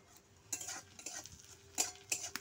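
Chopped onions fry in oil in a pan for a small tangra fish curry, a faint sizzle under a few light clinks and scrapes of the stirring utensil against the metal.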